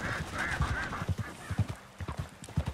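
Horse hooves clip-clop in Red Dead Redemption 2 in a quick, steady trotting rhythm at moderate distance, with soft background ambience and no talking.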